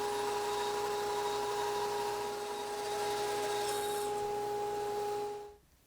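A bandsaw cuts a wood guitar heel or tail block to height, with a steady loud whine and rasping cut that holds for about five seconds before the blade winds down and quiets.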